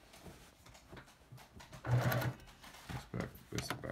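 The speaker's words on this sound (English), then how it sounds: "I'm really impressed with how fast it stitches" A sewing machine runs in short fast bursts while stitching a t-shirt quilt, giving a quiet mechanical whir with brief pauses between runs.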